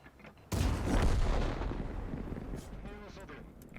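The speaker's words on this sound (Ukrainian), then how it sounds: "Що це за постріл такий?" A tank's main gun fires in World of Tanks, a sudden heavy boom with a deep rumbling tail that decays over a few seconds, followed by a brief metallic ringing.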